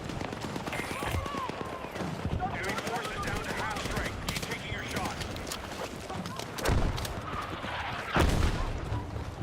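Rapid automatic gunfire in the Battlefield 6 shooter video game, an SL9 build fired at close range, crackling bursts with several louder shots near the end, mixed under talk.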